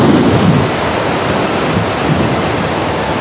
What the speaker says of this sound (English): the wind speeds already up to 40 kilometres an hour